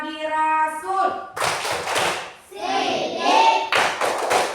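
A class does a rhythmic clapping chant, sung or spoken voices alternating with bursts of group hand claps and taps in a patterned beat, close and lively, with the voices dominating in places.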